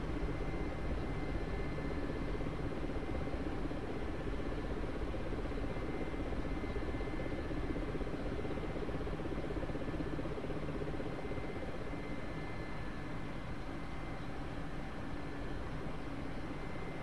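A helicopter sets down in a vertical landing in the flight simulator DCS, its steady broadband rotor and engine roar holding constant and loud throughout with no break.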